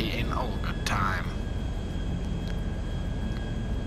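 A plane's engine drones steadily in Grand Theft Auto Online, a constant broad roar filling the background with a few brief chirps early on and faint voice sounds over it.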